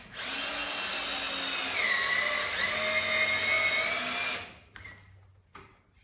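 A power drill drives a screw into a wall to fix a block for a post, one loud continuous whirring run of about four seconds whose pitch dips under load, then stops, leaving faint handling noise.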